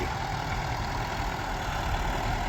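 A tractor engine idles steadily in a field, a constant low rumbling drone at moderate loudness with no talk.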